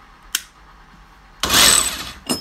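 A rotary hammer in drilling mode starts up with a short whir, then runs in a loud steady burst for about a second, followed by another brief start.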